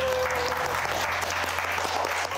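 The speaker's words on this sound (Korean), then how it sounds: "자 졸업 축하해 박수" Applause at a school graduation ceremony, a steady dense clapping of many hands lasting the whole moment, close and continuous with no talk over it.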